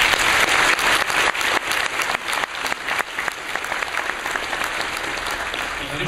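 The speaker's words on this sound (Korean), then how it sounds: "우리가 한번 격려 박수 한번 해드렸으면 좋겠습니다" Congregation applause of encouragement for the senior pastor in a church, a dense, sustained clapping from a large crowd lasting several seconds at steady loudness.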